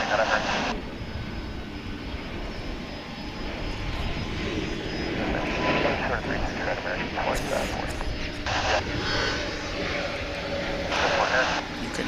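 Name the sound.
whine of a three-engine jet airliner at the airport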